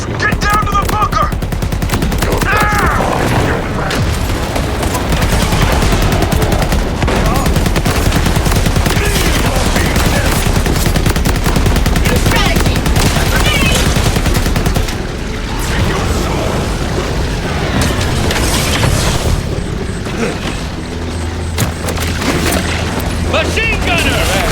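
Sustained automatic gunfire from Borderlands 4 rattles on nearly nonstop for the whole stretch, loud and dense, with explosions and mechanical clatter mixed in and shouting voices over the top.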